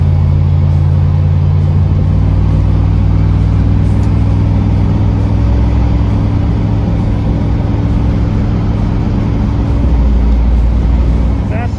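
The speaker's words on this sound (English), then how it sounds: "the car rattles and bangs" A car driving a rough, undulating road in northeastern California gives off a continuous loud, close rumble with low droning road noise and a scattering of small rattles and knocks throughout.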